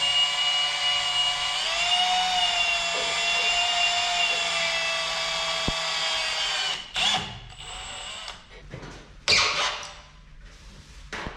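Power drill boring holes in a VW Beetle body shell for the sunroof vent tubes during restoration, a sustained high whine for several seconds, then short bursts, squeaks and clattering as the bit stops and restarts.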